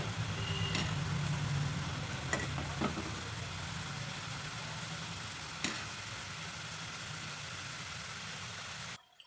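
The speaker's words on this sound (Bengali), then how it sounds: "এটা নিমকিগুলো কিন্তু একটু সময় নিয়ে ভাজতে হবে এটা যত সময় ধরে ভাজবেন তত ক্রাঞ্চি হবে" Nimki, crisp fried dough snacks, frying in hot oil: a steady close sizzle and bubbling hiss runs throughout, with a few sharp pops and clicks before cutting off abruptly at the end.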